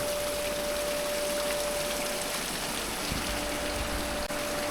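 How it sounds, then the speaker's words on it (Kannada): Water seeps and flows inside the Hulikere irrigation tunnel, a steady, continuous rushing wash that fills the space at an even level, with no voices. "ಇಲ್ಲೆಲ್ಲ ನೀರು ಬರ್ತಾ ಇದೆ ನೀರು ಜಿನುಗ್ತಾ ಇದೆ"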